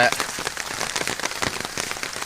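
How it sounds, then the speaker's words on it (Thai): Steady morning rain falls close by in Phu Wiang, Thailand, a dense crackling patter of drops striking a hard surface, continuous and fairly loud throughout. "ฝนตก อากาศเย็นครับ"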